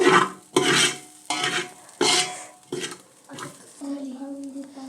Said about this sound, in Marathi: खोबरं तर खोबरं चांगलं लाल होईपर्यंत आपण हलवून घेतलंय